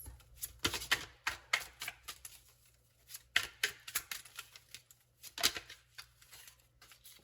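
Quiet, rapid riffling and flicking of tarot cards in short bursts, with brief pauses between rounds of shuffling; no talking.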